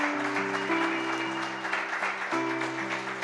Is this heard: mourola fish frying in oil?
no